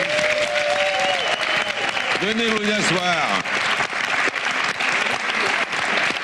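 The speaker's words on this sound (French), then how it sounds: "on va reprendre dans les applaudissements, s'il vous plaît" A French television studio audience for a mock The Voice show applauds loudly and continuously, with a host's voice and a shout rising over the clapping.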